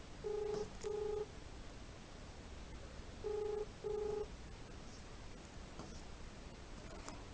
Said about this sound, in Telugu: ఇంకొక బాధితుడు ఆయన ఫోన్ లిఫ్ట్ చేస్తే మాట్లాడదాం ఒకసారి.